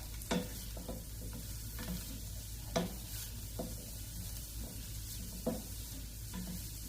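Onions and a frozen garlic puck sauté in a pan with a faint, steady sizzle, broken every second or two by soft clicks and scrapes of stirring.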